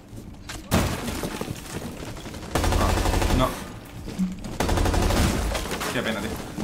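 Rapid bursts of gunfire crackle in loud volleys from Rainbow Six Siege, with a few louder blasts and muffled talk underneath.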